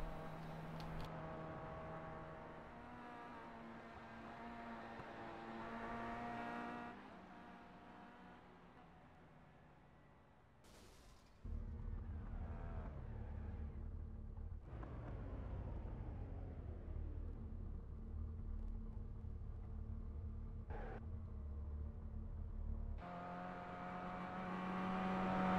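Race cars crossing the finish line in iRacing, engines rumbling and revving as cars pass one after another, with swelling and fading whooshes of each car going by at moderate volume.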